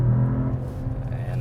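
Mercedes-AMG E53 heard from inside the cabin with the exhaust on, a loud low engine drone with steady humming tones, close and continuous.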